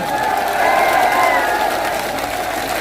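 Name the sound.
crowd applause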